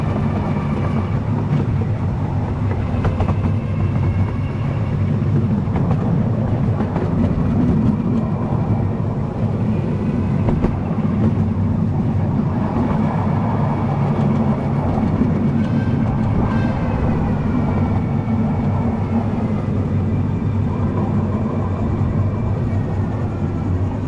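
A Diamond Valley Railway train runs into a passing loop, heard from the driver's position as a steady, loud low rumble and drone with faint rail clatter throughout, no voices.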